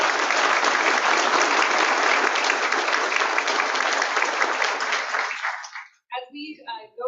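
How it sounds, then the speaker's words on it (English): Sustained applause from an audience at a public meeting, dense and steady for about six seconds before stopping abruptly, after which a voice begins speaking. "will you please give a big round of applause to the incredible team at the Summit County Metro Park"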